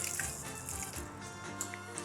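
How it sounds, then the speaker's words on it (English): Starchy rinse water left from washing lentils splashes and trickles as it is poured onto a plant, a continuous close, soft watery pour with a few small drips. "so I'm going to put this starchy water to the plant"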